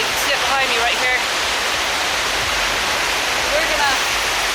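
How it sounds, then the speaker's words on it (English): A multi-tiered waterfall on the Four Waterfalls Trail in the Brecon Beacons roars as a loud, steady broadband rush, with a voice speaking faintly over the water's noise. "We've got 3 layers, almost 4 layers of this waterfall."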